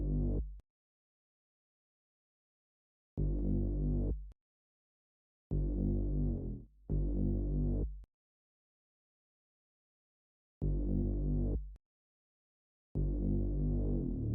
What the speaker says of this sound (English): Then for the next thing I had this Bold Color 2003 bass,